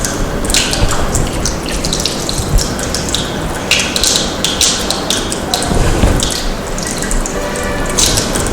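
Lab glassware such as a conical flask, funnel and burette is washed under running tap water, a continuous loud splashing stream with clinks and drips throughout.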